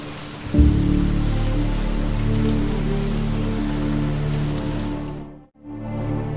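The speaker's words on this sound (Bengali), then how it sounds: "সারাদিন প্রায় বৃষ্টি হওয়ায় প্রথম দিন হোমস্টেতেই কাটলো।" Steady rain falling at a homestay in Jhandi near Lava, Kalimpong, North Bengal, a dense continuous patter close by with a low hum underneath, briefly dipping near the end before resuming.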